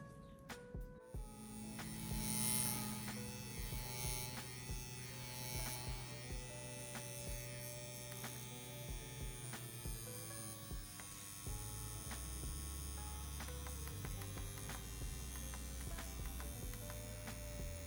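A CNC X-WE-Pro rotary tattoo machine runs with a needle fitted, giving a steady close electric buzz with a low motor hum. The pitch shifts slightly partway through as the needle depth is adjusted.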